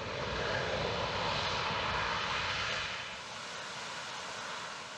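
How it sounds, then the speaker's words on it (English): A C-17 Globemaster III's jet engines roar under reverse thrust as the plane slows. The broad, steady rushing drone is loud and continuous, easing slightly partway through. "These thrust reversers, which resemble doors that open in the back of the engine, help slow down the plane by directing the engine's thrust backward."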